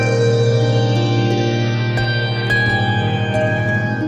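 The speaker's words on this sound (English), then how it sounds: "and it can be an ambient reverb," A Chase Bliss Lost and Found multi-effect pedal set to ambient reverb, a steady sustained wash of layered tones holding loud and even throughout, with a long smeared tail and no talking.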